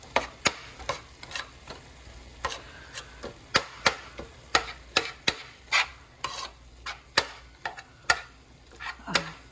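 Gluten-free lasagna thawing and cooking in a crockpot while being broken apart, giving repeated sharp scraping and tapping strokes of a utensil against the pot in an irregular rhythm, close and fairly quiet with a faint background hiss.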